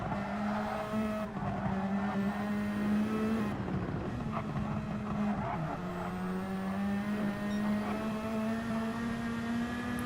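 BMW race cars at the Nürburgring Nordschleife in a racing video game, a sustained engine drone rising and shifting pitch as cars accelerate and change gear, loud and continuous with no talking.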